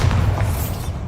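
Casting Bombarda in Hogwarts Legacy sets off a heavy, low explosion: a close, booming burst whose thick rumble holds steady and then trails off, heard alone without voices.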